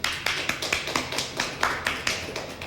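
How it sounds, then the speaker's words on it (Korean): A church congregation at a Sunday service claps together in a quick, even rhythm, sharp unison claps about four per second, close and clear with no talk over them. "하나님께 감사와 영광의 박수를 한번 올려드리겠습니다"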